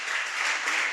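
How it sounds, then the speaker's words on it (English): An audience claps for an award-winning team at an entrepreneurship bootcamp ceremony, a brief burst of steady, moderately loud applause with no voices. "Okay, let's clap for them."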